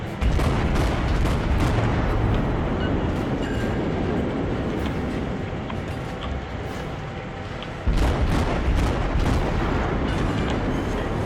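Dense, continuous rumbling and rapid booming bursts of naval gunfire in the video game World of Warships fill the scene, with a sharper surge of blasts near the end as a battleship sinks.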